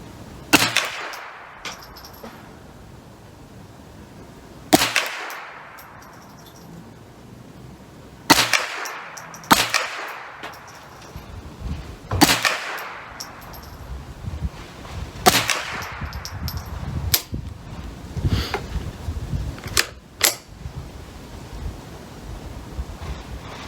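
Ruger 10/22 rifle fitted with a BugBuster scope firing about a dozen sharp outdoor shots at an irregular pace, each crack trailing off in a wash of echo and wind noise.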